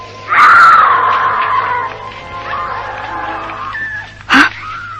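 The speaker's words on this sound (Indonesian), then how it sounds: "tiba-tiba dari kejauhan terdengar teriakan seorang wanita" A woman's drawn-out, wailing scream in an Indonesian audio drama, loud and sustained for over a second before trailing into a lower moan, followed by a short sharp gasp near the end.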